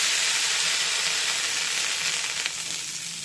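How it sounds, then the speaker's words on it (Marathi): Sprouted moong thalipeeth sizzles steadily on an oiled tava, a continuous close frying hiss with no pauses and no voices. "आता हे थालीपीठ अलगद तव्यावर सोडूया."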